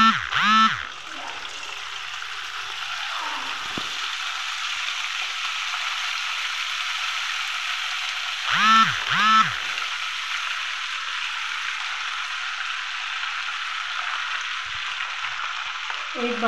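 Semolina chivda sizzles in hot oil, a steady loud crackling hiss throughout, broken by a few low warbling honks or squeaks near the start and middle.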